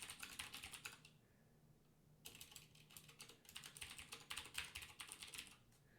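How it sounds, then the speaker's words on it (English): Fingers clatter quickly on a computer keyboard, faint and close, in steady bursts of keystrokes with a short pause in the middle. "I'm not even typing right."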